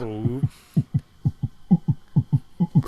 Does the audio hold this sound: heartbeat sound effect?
yes